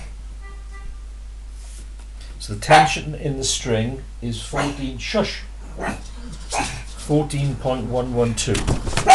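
A dog barks and yips in the background, partly masked by someone talking steadily over it.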